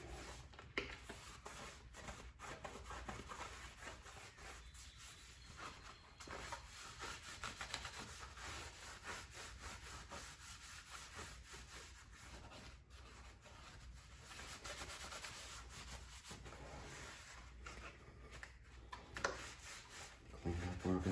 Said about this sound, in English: Wipe this down, get that seafoam deep creep off of it.